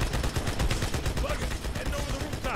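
Rapid automatic gunfire and turret fire in the video game Halo 2 Anniversary, dense and continuous, with players talking faintly underneath.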